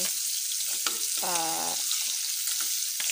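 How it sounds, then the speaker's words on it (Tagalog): Dried fish (tuyo) fries in a pan with a constant bright sizzling hiss, close up, broken by a short tonal squeak and a few soft knocks, no speech. "niluto ko lang ng isahan yung ating pagprito ng tuyo"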